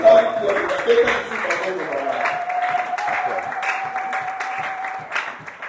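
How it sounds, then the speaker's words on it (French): A church congregation at a mission service in Kinshasa applauds in a steady, dense wash of clapping, while a voice talks and sings over it and the clapping thins slightly toward the end. "Oui, tu fais bien d'apprécier la grâce. Oui, oui, oui, acclame encore"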